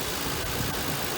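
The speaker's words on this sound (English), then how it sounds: "I believe you all have seen the Crown Vic engine" A stock Ford Crown Victoria engine, serpentine belt recently replaced, idles under the open hood with a steady, even broadband rumble.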